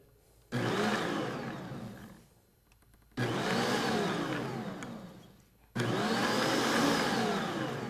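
A blender whirs in three short pulses on a low setting while it mixes chocolate mousse, each burst a steady motor whine separated by brief near-silent gaps.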